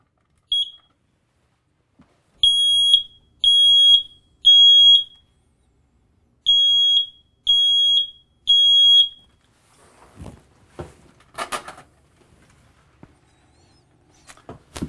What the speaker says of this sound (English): Your alarm works. And it's a 10-year life sealed battery smoke alarm